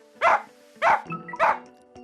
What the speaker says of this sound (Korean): 역시나 짖는 모습부터 보이는